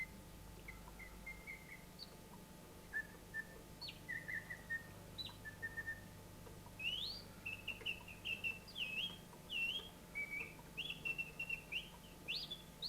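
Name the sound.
mechanical singing skylark automaton, antique executive toy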